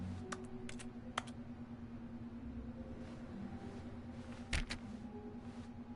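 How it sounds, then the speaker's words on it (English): Computer keyboard keys click in short, scattered bursts in the game The Stanley Parable Deluxe, faint and crisp over a steady low hum. "Hey, I can click the keyboard."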